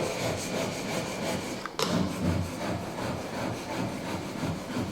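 Steel chisel rubbed back and forth on a coarse diamond sharpening stone lubricated with glass cleaner, a steady rhythmic gritty scraping up close with one sharp click midway.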